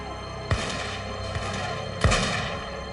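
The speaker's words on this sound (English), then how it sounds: "In the exchange of gunfire" Two sharp gunfire volleys cut through a steady background at a skirmish between Minutemen and British soldiers at the North Bridge, the first shot loud and the second heavier, with a smaller pop between them.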